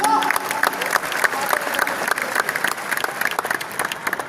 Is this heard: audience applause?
yes